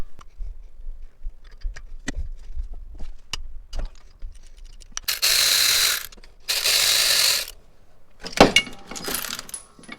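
A ratchet wrench clicks in short bursts while loosening the 12 mm belt tensioner bolts on a Mazdaspeed 3 engine, with scattered metallic taps and a few longer rasping ratchet runs near the microphone.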